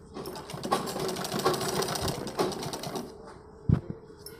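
Sewing machine stitching fine seams on kurti fabric, a steady close whirring run with rhythmic needle clatter that slows toward the end, finishing with a single sharp knock.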